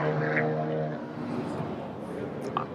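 A loud engine roar drones steadily with a rising whine, like a car passing on a race track, with brief faint squeaks near the end.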